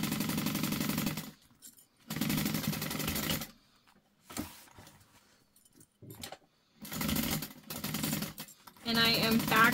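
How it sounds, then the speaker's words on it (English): A sewing machine back stitching the corners of a fabric pouch, running in several loud bursts of rapid mechanical stitching separated by short pauses and quiet handling sounds. "And I am back stitching in each spot where the corners are."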